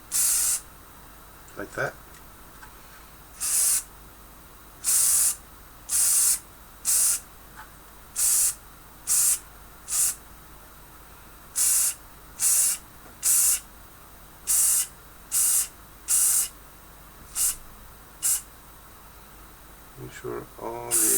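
Hairspray from an aerosol can sprayed onto a Hetzer model tank in about fifteen short, evenly spaced hissing bursts, close and loud, with someone speaking briefly at the start and end.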